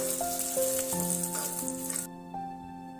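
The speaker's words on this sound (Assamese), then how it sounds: "এয়া চাওক, আমাৰ পনীৰখিনি ফ্ৰাই হৈ গৈছে।" Paneer sizzles and fries in hot refined oil, a steady crackling hiss with tonal ringing above it that drops away sharply near the end.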